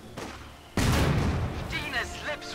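Mortar and artillery fire in the video game Company of Heroes 2 lands as a loud close boom that rolls into a long rumbling decay, with lighter battle noises and some talk mixed in.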